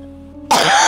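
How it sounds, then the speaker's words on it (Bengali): One sharp cough bursts out after a near-silent half second from an elderly woman ill with a fever that comes at night, close and loud, with a rasping throat-clearing quality. "আর ওই যে কাশিটা"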